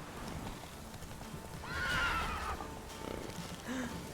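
Roach the horse, in a video game set in the Velen wetlands, gives a clear neigh midway while hooves clip-clop steadily in the background, moderately close, with no talk.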